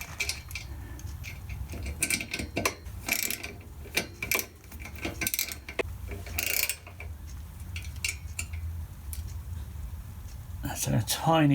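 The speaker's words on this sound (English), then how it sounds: "I need to make sure I can actually get my spanner out, so I can't use the closed ring end." A spanner clicks and ratchets on a tiny bolt during baffle replacement on a Yamaha XVS 650 Dragstar motorcycle, giving short metallic ticks and scrapes at close range over steady workshop noise, with a sharp rattle near the end.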